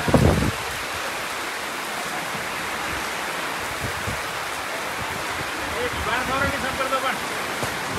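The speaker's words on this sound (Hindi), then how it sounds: "जोरदार बरसात होती हुई" Heavy rain pouring down at a sports complex in Dungarpur, a dense, loud, continuous hiss of downpour throughout, with a brief louder burst at the very start.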